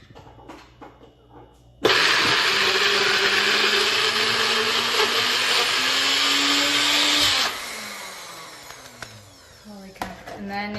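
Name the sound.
small kitchen blender blending cucumber pate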